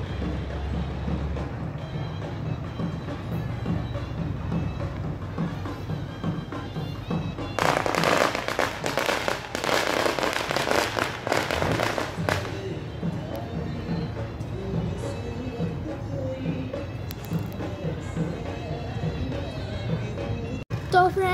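Dense crackling bursts of firecrackers, building to a loud, sustained barrage midway, over a busy festive background with drumming and voices.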